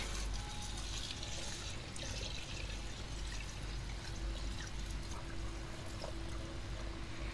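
Water poured onto dry garden plants at dusk, a steady, fairly loud splashing stream with faint dripping that continues unbroken for about seven seconds, with no one speaking.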